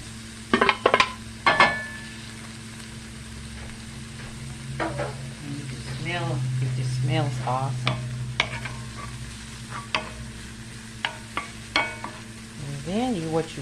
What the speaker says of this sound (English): So you want to saute that around in there. Stir it around in there.